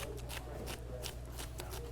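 A kitchen knife dices celery, onion and bell pepper into a small dice on a cutting board for dirty rice, giving quick, steady chopping strokes close by with no talking.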